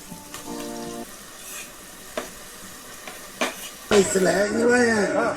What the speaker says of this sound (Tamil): ஸோ வெங்காயம் நல்லா வதங்கிருச்சு.